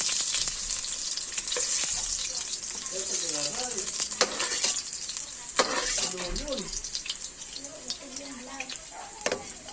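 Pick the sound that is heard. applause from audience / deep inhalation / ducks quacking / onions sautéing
onions sautéing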